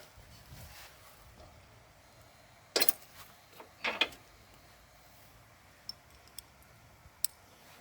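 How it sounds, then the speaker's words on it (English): R clips being removed and hitch pins popped out of a Kubota BX quick attach front hitch, a few sharp metallic clicks and clanks against quiet background, with a couple of faint ticks afterward. "I'm just going to remove the R clips from the bottom and pop the first pin out"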